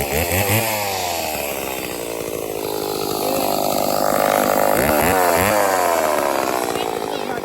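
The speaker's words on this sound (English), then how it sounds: "My grandfather's chainsaw, Elion." A grandfather's old chainsaw runs loud and close, its engine snarling steadily with revving surges, while voices talk over it.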